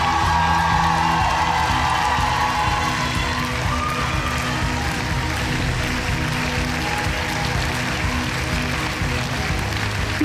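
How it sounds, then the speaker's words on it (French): Audience at a student musical comedy production of Sherlock Holmes applauding the choreographers, with dense sustained clapping, scattered whoops and cheers throughout, loud and steady across the whole stretch. "Merci d'applaudir nos belles chorégraphes, Eline et Victoria"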